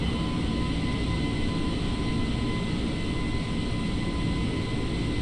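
Steady, loud broadband roar of a simulated Airbus A320 airliner climbing out after takeoff from Albuquerque in Microsoft Flight Simulator 2020, a continuous engine rumble with a faint tonal whine and no talk.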